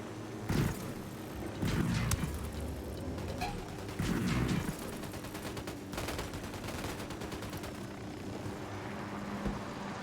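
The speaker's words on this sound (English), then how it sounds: "Opening fire, fire, fire." Gunfire in the tactical shooter Ghost Recon Wildlands: several sharp bursts and scattered shots ring out over steady background ambience, moderately loud and fairly close, with no talking.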